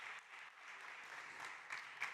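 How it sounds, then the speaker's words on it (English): Applause from the audience at a health startup pitch competition, an even, crowded patter of clapping throughout, moderately distant with a couple of sharper claps near the end. "big round of applause"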